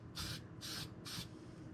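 Three bursts of spray paint hiss onto the trunk floor of a 1958 Plymouth, each about a quarter second long and evenly spaced, close and fairly quiet over a low background hum.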